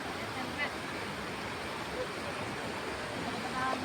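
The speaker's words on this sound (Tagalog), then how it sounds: "Kusugag agos oh." A strong water current rushes past in a dense, steady roar, loud and close throughout, with a brief faint voice near the start.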